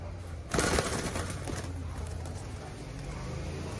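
A young Malaysian dove coos in short soft notes close by, over a steady background hiss with no talking.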